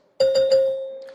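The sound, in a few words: debate timing bell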